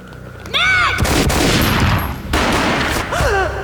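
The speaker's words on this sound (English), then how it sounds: "A gunshot boomed and she fell down in slow motion." A gunshot in the video game Max Payne rings out as a loud, sharp burst followed by a sustained roaring crackle lasting a couple of seconds, with a second heavy burst and tonal swooping effects around it.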